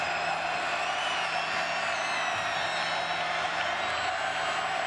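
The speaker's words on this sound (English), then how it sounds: "this is all Clemson crowd here, and they're making some noise in that end zone right now" Clemson football crowd roaring steadily from the end zone stands at the 2005 Champs Sports Bowl against Colorado, a dense, continuous wall of cheering and whooping that holds loud throughout.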